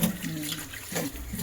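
Tap water running while mud-dirty crabs are washed for a village-style spicy crab curry, a steady close splashing flow with faint voices in the background.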